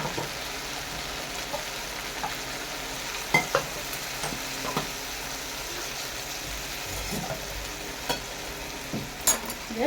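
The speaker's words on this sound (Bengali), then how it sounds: "মশলাটাকে দিয়েও আমি কষে নেবো এইভাবে" A ground spice paste frying with boiled potatoes in a pan, a soft continuous sizzle broken by occasional stirring clicks and scrapes, fairly close, no voices.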